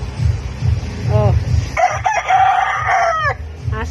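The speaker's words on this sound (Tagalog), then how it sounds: "Ang dami niyang manok." A native rooster crows loudly with a long, rising call, surrounded by chicken clucking and a steady low rumble of background noise.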